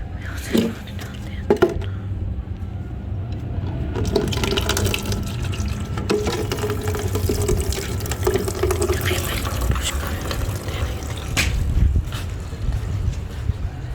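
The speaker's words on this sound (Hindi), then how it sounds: "अब मैं पौधों को जो है पानी दे रही थी।" Water splashing and pouring from a container onto dry soil in potted plants outdoors in a village, with a continuous close trickle and splatter and occasional handling knocks and faint background voices.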